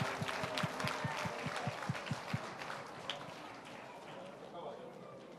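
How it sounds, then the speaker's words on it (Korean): A church congregation claps for graduates of an intercessory prayer course, a moderate spread of hand claps that thins out over a few seconds, heard in a reverberant hall with faint murmuring beneath. "수료하시는 분들에게 축복과 격려의 박수를 보내겠습니다"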